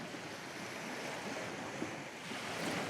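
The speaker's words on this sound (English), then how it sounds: "Sounds of the beach in Nipaluna." Waves break and wash on a beach in Nipaluna, a soft, steady surf roar heard from a little distance, fairly faint and continuous with no voices.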